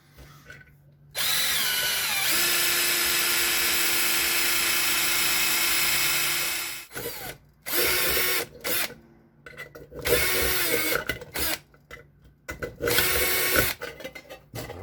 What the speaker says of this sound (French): je vais procéder de la même manière avec ma perceuse